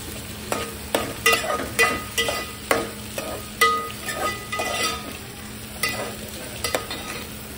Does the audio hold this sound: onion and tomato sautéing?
yes